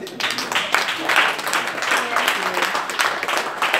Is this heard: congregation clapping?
yes